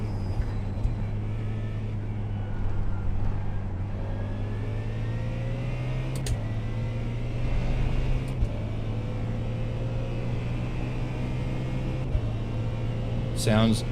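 A steady race car engine drone in a video game, a Mustang, holds a low, even pitch, rising in a few gradual steps like gear shifts, with a brief sharp whine near the end.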